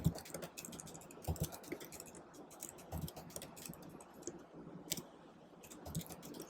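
Someone types HTML and CSS code on a computer keyboard, with irregular bursts of soft clicking keystrokes, close and fairly quiet, without talk.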